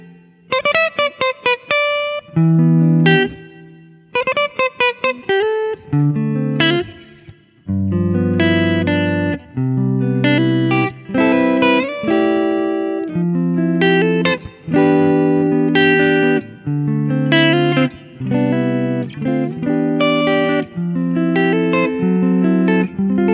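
Aguda Resist 6NT electric guitar with humbucker pickups, black finish, played on a clean tone: a steady sequence of picked notes and chords, sustained and close, running alone without talk.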